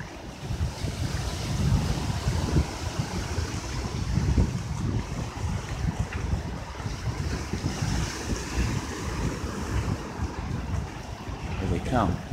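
Ocean waves rolling in at a beach with surfers out on the water, a steady wash of surf and wind buffeting the microphone throughout, continuous and fairly loud with no clear break.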